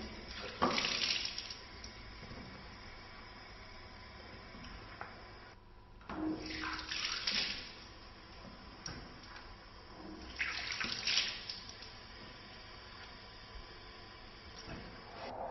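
Water runs and splashes as a person washes during Muslim ablution (wudu), faint steady tap flow broken by three distinct louder bursts of splashing, quiet and close.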